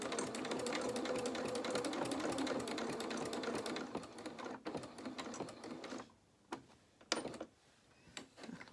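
A sewing machine stitches fabric for a small doll's dungarees in a rapid, even run of mechanical ticks, then slows into short separate bursts with pauses between them, close by and fairly quiet.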